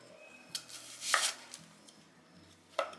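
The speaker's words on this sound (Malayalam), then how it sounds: "സവാള ഒന്ന് കട്ട് ചെയ്യുക. ചെറുതായിട്ട് കട്ട് ചെയ്യണം." A knife chops onion finely on a board for paneer pepper masala: a handful of sparse, sharp taps spaced irregularly, close but fairly quiet, with no talking.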